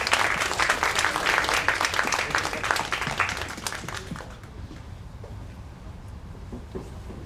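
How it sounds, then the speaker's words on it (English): An audience at a startup launch event in a hall applauds loudly and steadily, then the clapping fades to a softer patter. "can you all welcome him with a hand of applause?"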